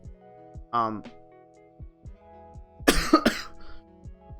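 A brief voice sound comes first, then a loud, sharp double cough close to the microphone, over faint ticking in the background.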